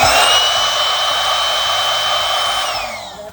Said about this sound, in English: And then I blew this up with my air blower.